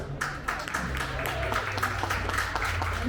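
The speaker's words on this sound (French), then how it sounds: "On peut applaudir, hein." Audience applause at an award ceremony during the Trolls & Légendes festival in Mons: a close, dense wash of many hands clapping steadily throughout.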